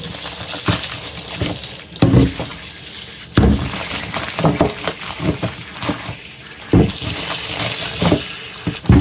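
Tap water runs and splashes over corn being rinsed in a kitchen sink for a seafood boil, with irregular bursts of splashing and knocking as the ears are handled.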